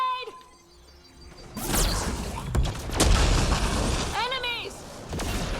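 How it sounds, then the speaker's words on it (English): A grenade goes off in the video game Mass Effect: Andromeda. A thin electronic hum gives way to a sudden loud blast, then rumbling debris, whooshes and sweeping electronic chirps. "Grenade!"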